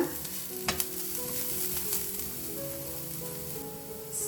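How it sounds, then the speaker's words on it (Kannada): Onions fry in a pan with a continuous light sizzle and occasional stirring clatter, close and fairly quiet. "ಈರುಳ್ಳಿನೂ ಕೆಂಪಾಗೋ ತನಕ ಫ್ರೈ ಮಾಡಬೇಕಾ?"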